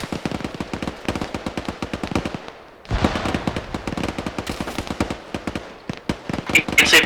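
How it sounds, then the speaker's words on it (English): Rapid automatic gunfire bursts from a Vietnam-era ArmA 3 SOG battle, loud and close, with sharp repeated cracks, a brief lull near three seconds, then sustained shooting resuming with scattered distant reports. "Shooting in the south side of kill zone 6."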